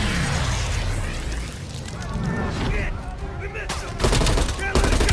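Sniper rifle gunfire and explosions in a video game, a dense, loud battle din with clustered sharp bursts toward the end.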